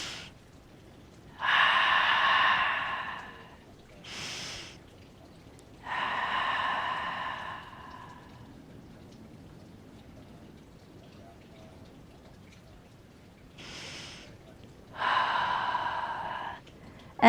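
Deep breathing during a yoga session, with long, close, airy inhales and exhales repeating slowly with quiet gaps between them, and no talk.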